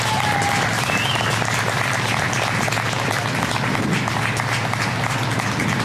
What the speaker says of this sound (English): I think he really deserves a round of applause.